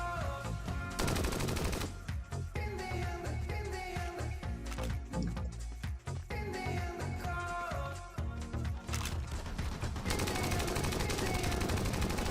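Rapid gunfire rattles through a battle in the pig-themed mobile MOBA PigBang, dense crackling shots layered over busy game music and effects, loud and nearly continuous for the whole stretch.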